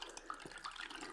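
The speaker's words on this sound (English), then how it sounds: "so just fill it up. You can obviously use tap water," Tap water running into a hydration pack bladder, a faint, brief splashing trickle with no talk.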